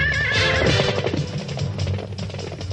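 A horse whinnies in an animated space-western series, a loud, drawn-out neigh with a wavering pitch over a busy background of music and effects.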